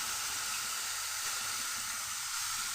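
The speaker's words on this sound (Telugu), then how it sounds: "ఇప్పుడు అదే ప్యాన్లో ఒక 5-6 టమాటాలను చిన్నగా కట్ చేసుకొని ఈ ప్యాన్లో వేసుకోవాలి" Chopped tomatoes sizzle in a frying pan with steady, even hissing that holds at a moderate level throughout, with no voices.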